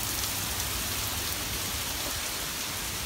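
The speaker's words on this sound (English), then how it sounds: "Starts downpouring." A heavy downpour hisses outdoors as dense, steady rain pours onto surfaces, a loud broadband wash with no break and no voices.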